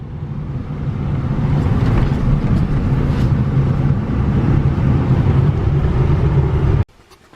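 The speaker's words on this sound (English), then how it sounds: "Now I have to drive down a dirt road with my truck." A truck drives along a dirt road with a steady, loud low engine drone and rumbling road noise. The rumble holds for about seven seconds and then cuts off abruptly.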